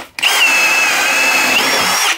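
A Milwaukee M18 Fuel gen 3 cordless drill spins at high speed in a loud, steady, high-pitched whine. The whine starts abruptly, holds for about two seconds and stops cleanly, with no voices.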